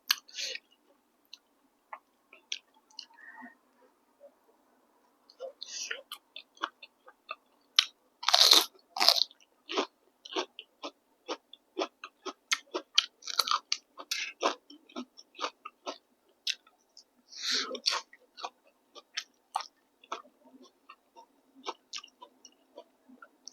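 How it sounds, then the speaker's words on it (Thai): Freshly grilled Isan fermented sausage, hot from an air fryer, is eaten up close: crisp crunchy bites and wet chewing come in irregular bursts against a silent background. "ย่างเสร็จใหม่ๆก็มากินเลยกำลังร้อนๆ"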